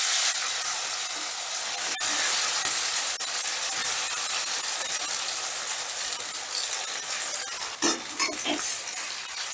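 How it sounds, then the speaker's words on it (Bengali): Marinated soybeans hit hot oil in a pan and sizzle loudly up close, a dense crackling hiss with sharp pops and a brief stir of clatter near the end. "তেলটা গরম হয়ে গেলেই দিয়ে দিচ্ছি ম্যারিনেট করে রাখা সয়াবিন।"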